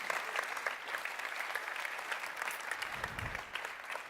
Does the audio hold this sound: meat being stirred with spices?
no